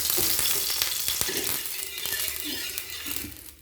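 Mustard oil sizzles steadily on a hot tawa as it heats for an omelette, a close, continuous crackling fry with scattered pops and no voices.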